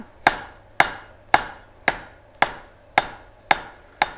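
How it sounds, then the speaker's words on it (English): A hammer strikes hot steel on the horn of an anvil to knock down the corners for vine work. Eight sharp, ringing blows fall at an even, steady rhythm, close by, with no talk. "I'm going to go ahead and take off the corners, but I'm going to do it on the horn of the anvil."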